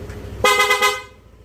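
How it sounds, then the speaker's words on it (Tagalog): An original PIAA horn fitted to a Yamaha Nmax scooter gives one loud, bright honk lasting about half a second, then rings off into low background noise. "original PIA horn yan mga bok."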